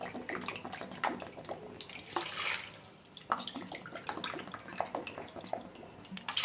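Water pours and splashes in uneven gushes into Mappillai Samba rice for boiling porridge, with a brief pause partway through, close and moderately loud with no talking.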